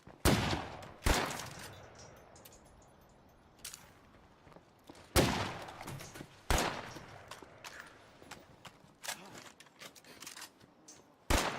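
Bursts of gunfire in the LEGO Horizon Adventures video game, loud volleys of shots repeating every few seconds with quieter crackling between them.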